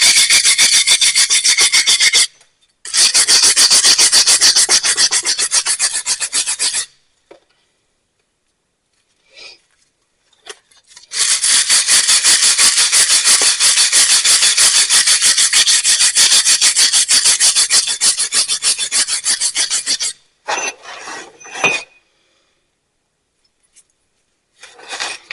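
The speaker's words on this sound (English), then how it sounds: "Take a wire brush, and we got to clean this all up." Wire brush scrubbing rust off truck brake parts on a 2015 Chevrolet Silverado: loud, close, rasping strokes in long steady bursts with pauses between, then a few short scrapes at the end.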